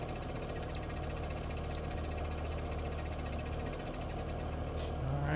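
A self-driving truck's engine idles after it stops, a steady close rumble with a knocking vibration that holds at an even level throughout. No voices are heard.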